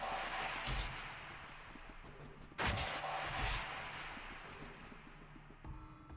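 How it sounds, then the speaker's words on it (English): Muffled, booming explosions from mobs in the action RPG Grim Dawn: two heavy blasts stand out against a continuous roar of combat noise. "I hate the exploding mobs"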